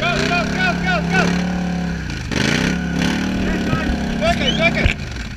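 A Can-Am ATV engine in Lopare, Bosnia, revved on the throttle. It gives a loud, close, droning roar that rises and dips in pitch through several revs, with people talking nearby.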